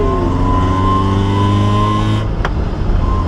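A Toyota AE86 drift car holds a loud, close engine drone with a strong harmonic whine, then the engine note drops sharply after a brief click, as if shifting, before the engine picks up again.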